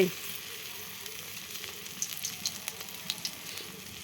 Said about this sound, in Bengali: তেলটা আমার গরম হয়ে গেছে। এখন আমি বড়াটা বানাই নেব।